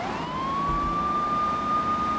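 An ambulance siren in Grand Theft Auto 3 wails as one steady, rising, sustained tone, fairly loud and alone, with no talk over it.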